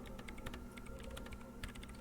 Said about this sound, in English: She's behind the keyboard now, typing in some numbers that only she understands.